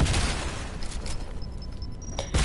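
Video game explosions and gunfire, a dense rumbling burst at the start followed by scattered shots and faint high electronic tones, ending in another loud blast; moderately loud, no voices.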